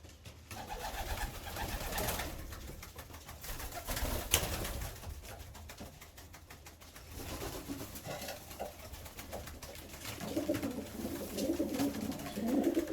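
Pigeons coo softly in a loft, repeated low throaty calls that grow more frequent toward the end amid faint rustling, with no talking.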